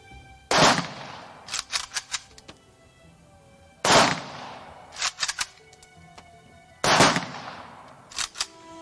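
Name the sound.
military gun salute volley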